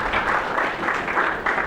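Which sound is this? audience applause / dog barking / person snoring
audience applause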